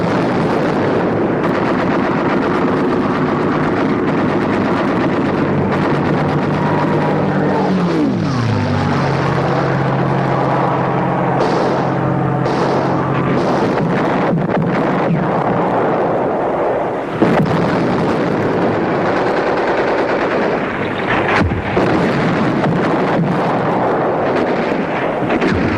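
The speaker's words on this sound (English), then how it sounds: "Carrier-based planes come in for almost continuous bombing and strafing." Carrier-based warplanes bomb and strafe at Tarawa in wartime battle footage: a loud, sustained roar of engines with bursts of rapid gunfire, a swooping pitch drop as a plane passes, and sharp impacts scattered throughout.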